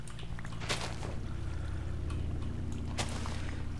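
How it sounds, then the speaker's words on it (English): Water flowing and pouring in the Minecraft survival game, a steady watery wash with a couple of sharp splashy bursts, continuous and fairly loud, no talking. "I'm just playing around a bit with the water"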